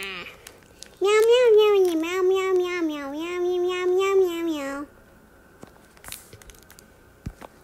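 A voice imitates a cat, giving a long, wavering run of sung meows for a few seconds, close and loud, followed by quieter handling noises and small clicks.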